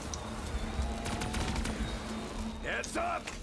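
Gunfire in the video game Black Ops 3 Zombies, a rapid burst of weapon shots over a busy game soundscape with a low steady hum, followed by a few sharp chirping tones near the end.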